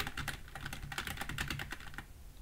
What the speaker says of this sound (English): See, my keyboard sounds like that because it's new.